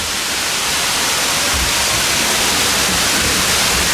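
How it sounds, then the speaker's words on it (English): A theme park waterfall on a Hollywood tour ride in Phantasialand gives a loud, steady, broadband rush of falling water that stays close throughout, with no talk. "Starting off with this wonderful waterfall."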